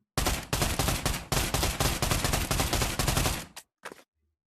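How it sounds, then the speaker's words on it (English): SMG fire in the Pavlov VR gun range, a loud, nearby stream of rapid automatic bursts with brief gaps between them, then a short final burst before silence. "SMG."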